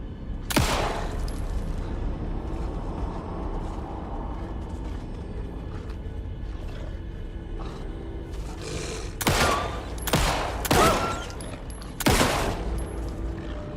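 Gunfire from the video game Alan Wake 2: a single sharp shot near the start, then a quieter stretch over low game ambience, followed by a cluster of three loud shots later on.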